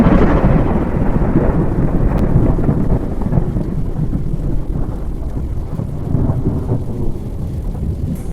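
A long rolling thunder sound effect, loud and low with a sharp crack near the start, rumbling continuously and tailing off over several seconds amid rain-like hiss.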